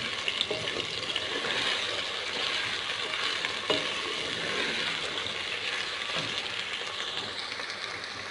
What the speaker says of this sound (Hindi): हमने बहुत ही अच्छे तरीके से इसको भी भून लेना है अदरक लहसुन का पेस्ट डाल के